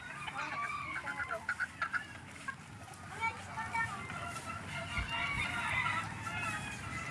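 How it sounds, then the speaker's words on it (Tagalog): Chickens cluck and peck near the microphone as they are fed outdoors in a rural yard, with short repeated clucks and a rooster call amid someone talking over them. "Habang pinanonood natin si Boss Charlie na nagpapatuka."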